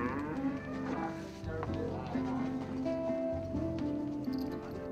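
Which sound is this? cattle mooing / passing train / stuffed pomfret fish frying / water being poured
cattle mooing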